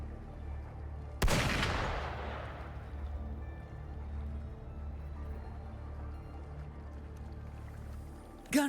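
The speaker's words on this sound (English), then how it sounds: "Gunfire! We've got intruders." Gunfire in the video game Wuthering Waves: one sharp, loud shot rings out early and decays slowly over a low rumbling ambience, with a faint second crack near the end.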